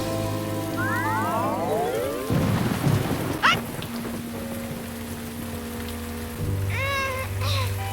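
Steady rain hisses throughout, with a deep rumble and a few sharp chirping and swooping tones layered over it.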